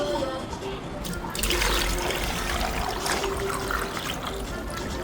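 Cooled brine is poured over eggs in a container to make homemade salted eggs, giving a steady, close, full rush of liquid throughout with a brief louder splash near the start.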